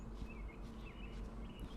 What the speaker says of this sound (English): Bird sounds. Bird sounds.